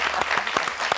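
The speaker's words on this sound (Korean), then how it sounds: "여러분 일단 박수로 환영의 박수를 먼저 보내주세요" A studio audience on a Korean talk show claps in welcome for a guest, a brief, steady patter of many hands at close range.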